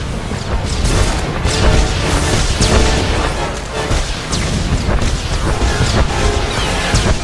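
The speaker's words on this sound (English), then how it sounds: "here the droid is launching another missile barrage" Droid unleashing a missile barrage in Star Wars: The Old Republic, a dense, loud wall of overlapping blasts, crashes and booms that rolls on without pause from start to finish.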